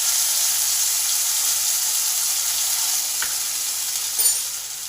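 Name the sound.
frying ground ginger, coriander and cumin paste in spiced oil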